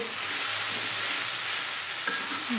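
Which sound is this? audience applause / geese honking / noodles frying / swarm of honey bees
noodles frying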